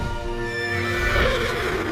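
A horse whinnies loudly and close, a long quavering neigh with a few soft hoof clops underneath.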